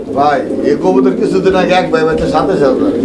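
Fancy pigeons such as shadel, racer and kitel runners coo steadily at a pigeon farm, low throaty murmurs running under nearby conversation for the whole stretch.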